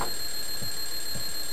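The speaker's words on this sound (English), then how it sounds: "break the damn alarm clock!" An alarm clock ringing in the video game Clock Tower, a continuous shrill metallic ring held steadily throughout with faint low thumps underneath, loud and alone without talking.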